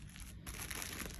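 Plastic bags holding washed and folded laundry crinkle steadily close by, a soft continuous rustle with a brief pause partway through, no voices.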